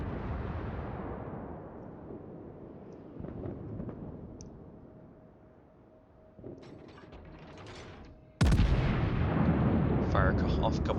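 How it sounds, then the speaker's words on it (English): Naval guns of battleships such as the Missouri in World of Warships fire in deep booming salvos, one long rumbling blast fading out and then a sharp loud report near the end. "Looks like he's firing on the Ibuki."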